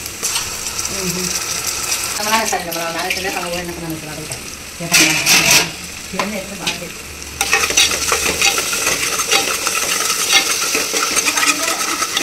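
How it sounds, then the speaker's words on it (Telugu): A spoon stirs browned onions with ginger-garlic paste in a pan for mutton curry: steady scraping and a light sizzle, close by, with a brief stretch of voice in the first half. "మనం అల్లం పేస్ట్ వేసినాం కాబట్టి ఇట్లా అడుగు అంటే మనం కలుపుకుంటూ ఉండాలి కూర వేసే వరకు"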